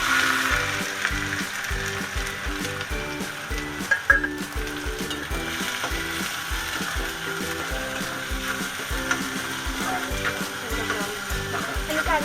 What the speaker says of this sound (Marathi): कढाईमध्ये तेल टाकून ते फोडणी देऊया लसूण टाकली आणि कांदा